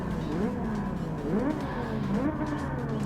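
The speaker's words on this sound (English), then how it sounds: "You can hear the Ferrari in the background." A Ferrari engine in the Gran Turismo 7 racing game revs through rising and falling gear sweeps, a continuous moderately loud engine note.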